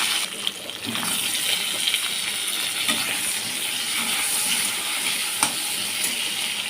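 Eggplant pieces frying in oil in a pan for a rohu fish curry, a loud, close, hissing sizzle with occasional spatters and stirring knocks, continuous and without speech.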